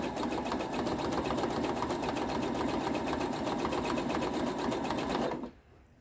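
A sewing machine runs a continuous zigzag stitch across a thick oven mitt, a loud, even mechanical whir close by that cuts off abruptly near the end, with no talking.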